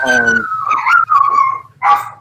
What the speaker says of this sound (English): Sorry, I got dogs barking in the background.